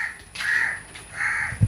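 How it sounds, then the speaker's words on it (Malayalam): Crows cawing around a village home in Kerala, two drawn-out caws close by, the first longer, with a brief thump at the very end. "കാക്കകൾ ഇവിടെ വന്നിരിക്കും"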